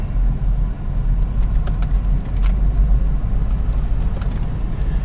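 A 1990 Chevy Corvette ZR1 with a manual clutch pulls out and drives, giving a steady low engine rumble with road noise and faint clicks throughout.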